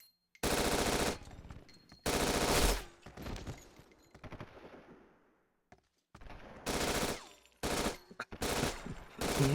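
Bursts of automatic machine gun fire in the video game Syphon Filter: Dark Mirror, loud sustained volleys separated by short pauses and trailing echoes, with no talking.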